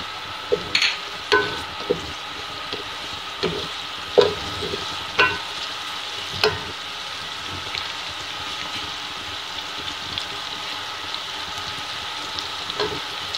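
Cumin seeds go into a pan of frying peas and bell pepper for a Sindhi fish pulao, giving a steady close sizzle broken by repeated sharp scrapes and clinks of a spoon stirring against the pan.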